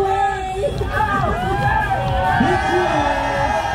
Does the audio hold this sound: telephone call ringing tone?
no